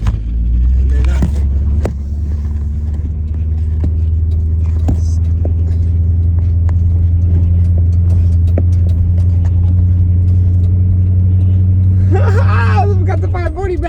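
BMW E34 540i pulling out of a driveway, a steady low engine rumble and tire roll throughout with faint scraping and background voices, plus a brief rising rev near the end.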